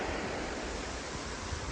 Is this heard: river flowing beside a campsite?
yes